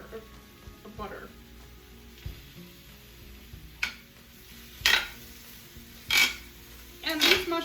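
Half a block of butter melting into a hot pan of chicken and mushrooms cooking in oil for chicken Marsala, a soft steady sizzle with occasional louder utensil clinks and scrapes against the pan.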